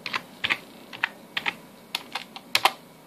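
Keys tapped on a computer keyboard while entering a router password, heard as short, irregular bursts of clicks with brief pauses between groups, fairly close and with no talking.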